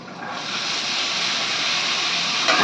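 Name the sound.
chopped cluster beans sautéing in a pan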